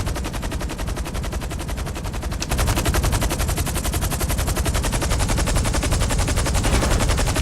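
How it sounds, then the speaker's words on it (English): Rapid automatic gunfire from a GTA Online shootout rattles on without pause, loud and close, growing denser and heavier partway through with no talk over it. "They're shooting at us."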